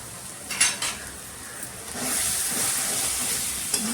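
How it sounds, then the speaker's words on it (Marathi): Turmeric, salt and Kashmiri masala are stirred into chicken in a hot pan for a coconut chicken curry, giving a steady soft sizzle and hiss broken by a few scraping stirs and light clinks of the spoon. "मसाले पण ह्याच्यामध्ये मिक्स करून घेऊया"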